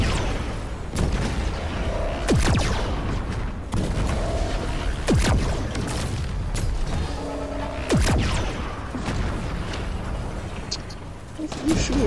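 Gunfire in an online shooter video game: sharp, loud shots cracking out irregularly in short bursts, several close together, over a busy game background while players talk.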